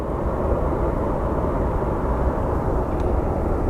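An airliner built in 1998 rumbles steadily at Phoenix Sky Harbor airport, a broad, loud continuous engine roar without speech.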